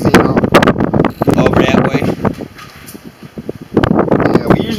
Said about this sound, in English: Oh, it's heavy wind here